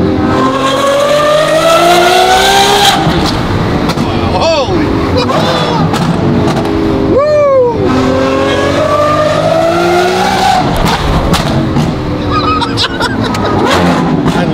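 A twin-turbo Ferrari F12 engine revs hard toward 8000 RPM, loud and close, with rising and falling sweeps and sharp shifts, while voices and crowd chatter carry underneath.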